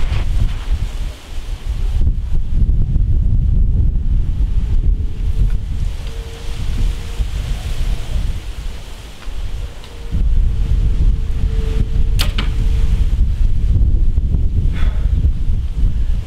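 Steady wind blusters and rumbles over the microphone at an outdoor archery range, with gusts rising and falling continuously.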